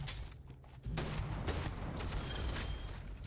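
Gunshots in the Starfield video game, a string of loud booming shots and thuds close together over about three seconds, with no voices over them.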